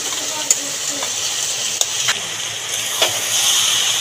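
Fried potatoes and raw jackfruit cooking in spiced masala in a small pan hiss with a steady sizzle, broken by a few sharp clacks of the spoon against the pan as it is stirred.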